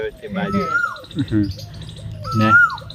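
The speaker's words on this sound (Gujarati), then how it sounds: "ડાયરો કોયલ ના ટવકારા છે" Asian koel calls ring out near and loud in a village at midday, rising whistled notes repeated a few times with brief pauses, and voices chatter underneath.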